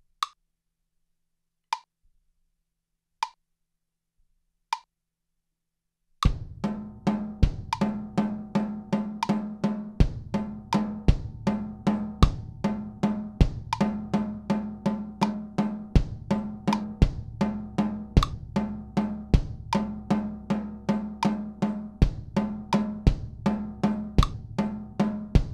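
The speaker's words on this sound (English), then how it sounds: "Let's turn on a metronome and listen to it that way." A metronome clicks: a few sparse ticks, then a steady fast pulse of sharp clicks over a looping drum groove with kick drum, holding an even tempo to the end.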